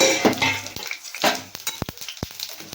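Tempering seeds, including chana dal, urad dal, cumin and mustard, frying in oil in a kadai, heard as a close crackling sizzle with a few sharp pops and light metal clinks from stirring.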